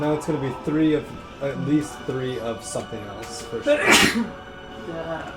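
A single loud sneeze bursts out in the middle of casual conversation during a Legend of Zelda: Twilight Princess gaming session, with people talking before and after it.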